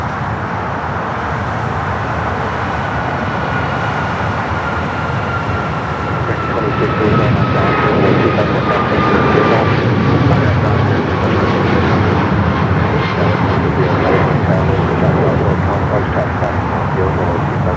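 A United Airlines airliner passes at LAX, its jet engines roaring loud and broad with a slowly shifting whine as it goes by, while a voice talks over it.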